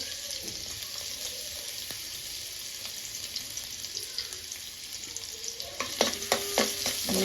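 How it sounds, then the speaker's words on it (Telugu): Chopped garlic and ginger sizzle steadily in hot oil in a pan, with a loud continuous fry, then scraping stir strokes toward the end. "లైట్గా ఫ్రై అవ్వాలి"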